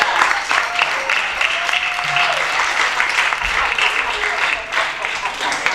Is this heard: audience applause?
yes